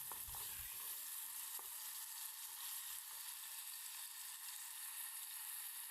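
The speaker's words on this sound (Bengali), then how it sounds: "ফার্স্টে আমি চিকেনগুলো দিয়ে হালকা কতক্ষণ পেঁয়াজের সাথে ভেজে নেব" Chicken pieces frying with onions in a hot pan, a constant dense sizzle broken by a few soft scraping stirs early on, close and alone.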